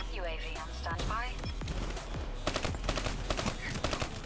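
Video game gunfire rattles in rapid automatic bursts during the second half, with a voice talking over the game sounds at the start.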